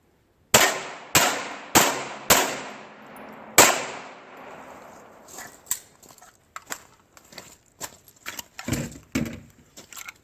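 Five loud pistol shots crack out one after another, each leaving a short ringing decay, as the bullets strike a metal barrel. A scatter of lighter clanks and knocks follows.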